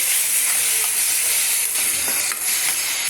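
Tomato pieces with turmeric and salt cook in a pan, a steady close sizzling hiss throughout with faint occasional clicks and no voices.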